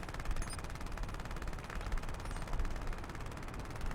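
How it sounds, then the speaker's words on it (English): Sustained rapid weapons fire in the MechWarrior Living Legends game as mechs fire on an enemy, a dense crackling barrage that continues steadily without pause. "Ivan and Ben are firing on Invictus."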